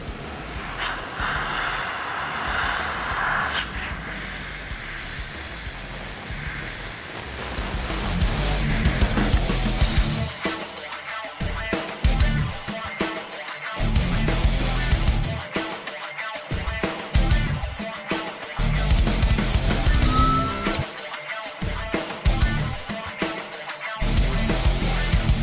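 An airbrush sprays paint for a twisted flame design, giving a close, steady hiss for about ten seconds that then breaks into choppy, irregular bursts of spray. No one speaks.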